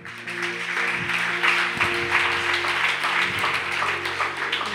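A church congregation applauding, with sustained loud clapping over a held organ or keyboard chord.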